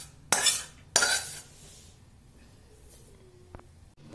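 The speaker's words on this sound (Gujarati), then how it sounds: "હવે આ ગોળ આમાં નાખી દેવાનું," Jaggery going into a churma laddu mixture: two sharp utensil clanks close together near the start, then near silence with a faint scrape later on.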